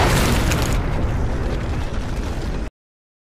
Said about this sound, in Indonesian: BR4 meledakkan diri demi menghancurkan BR3 dan menghabisi Bowler